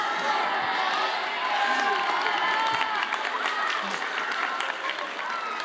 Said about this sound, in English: What an exciting, revved up crowd.